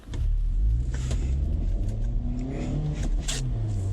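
Front-wheel-drive car accelerating hard with wheel hop, a loud, close engine rumble that rises in pitch, with a slight shudder in the roar.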